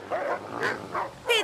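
A few short yelping barks from a dog, spaced apart, fairly close and moderately loud, with no talking.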